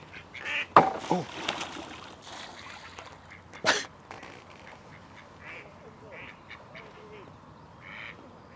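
A duck quacks at a carp fishing lake with islands, a few loud calls early on followed by fainter scattered quacks and a splash, over quiet outdoor background.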